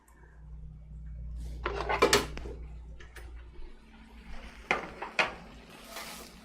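A knife cuts into cooked maple mustard chicken in a pan, giving a few sharp metallic scrapes and clinks against the pan amid soft kitchen noise, with two clear clusters of clatter.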